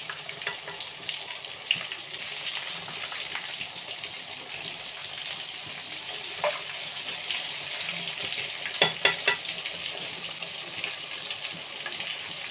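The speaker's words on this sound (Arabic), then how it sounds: "لازم يكون الزيت سخن قوي كده بالشكل ده، يبقى سخن كده الكبده تطلع معاكي حلوه" Breadcrumb-coated liver frying in very hot oil, a continuous close crackling sizzle with scattered sharper pops and a few utensil taps, no voices.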